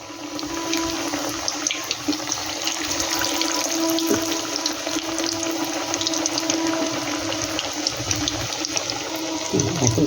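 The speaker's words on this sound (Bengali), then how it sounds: "এই একইভাবে আমি কিন্তু প্রতি কটা ভেজে নেব" Pumpkin leaf rolls frying in oil, a steady, bubbling, watery hiss close by with no voices, holding an even level throughout with a faint tonal hum underneath.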